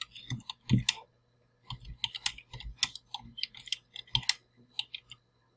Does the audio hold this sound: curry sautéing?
no